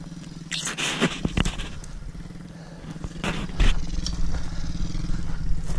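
Dirt bike engine, an MRF 80 or KTM 250, revving with a steady low harmonic drone and throttle swells, moderately close, under a few brief outdoor voices.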